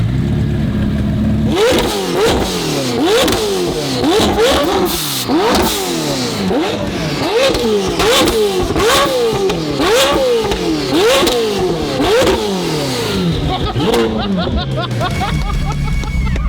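A 1300 hp McLaren 720S GT race car engine revs hard in a rapid, rhythmic series of sharp blips and pops, loud and close, with faint chatter behind.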